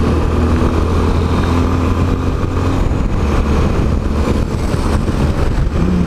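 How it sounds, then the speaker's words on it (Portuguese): Heavy engine rumble of a city bus passing along a busy downtown street in Campinas, loud and steady throughout with constant low traffic noise and no voices. "Olha o busão cortando na alta, hein?"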